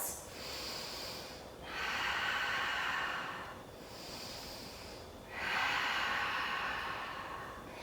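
Slow, deep breathing during a vinyasa yoga flow: two full breath cycles with broad airy inhales and exhales, close and steady, with no talking.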